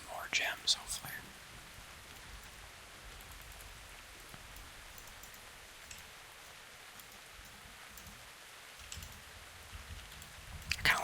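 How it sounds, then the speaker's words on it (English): Soft, steady rain ambience fills a World of Warcraft zone on Siren Isle, a faint even hiss under quiet whispering, with clicks of keys or a mouse near the start and end. "This zone might be a top zone with the rain ambience."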